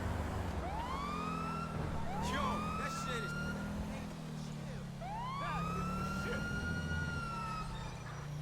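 A police siren in LSPDFR, the GTA V mod, gives short rising whoops in repeated bursts during a Code 2 response through intersections, sounding over a low engine rumble.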